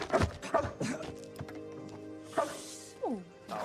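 A dog gives a few quick sharp barks and yips close by, with a whimpering whine near the end and brief thumps between.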